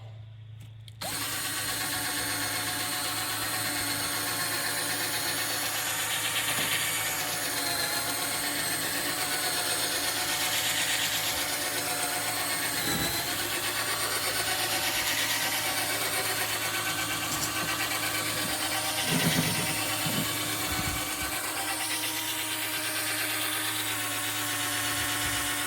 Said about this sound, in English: This is going to be with the 1200. The 1200 sanding grip.